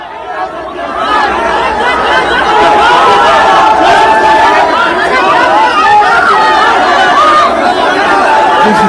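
A large crowd chatters at an Owaisi political rally, a dense, steady babble of many voices close around, with scattered louder shouts rising over the din throughout.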